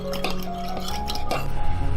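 Spoon stirring a sauce of light and dark soy sauce, oyster sauce, sugar, pepper, starch and water in a bowl, giving soft clinks and scraping against the dish, close and continuous with no talk.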